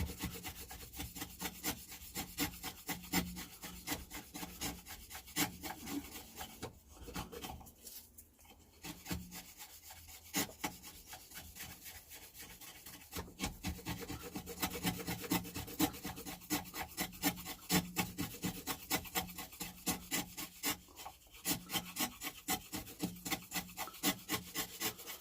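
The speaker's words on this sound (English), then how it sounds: "Go for a slightly narrower chisel for the outside." Narrow chisel paring wood for a dovetail halving joint, with a steady run of quick rasping scrapes close by that continues throughout with brief lulls and no talking.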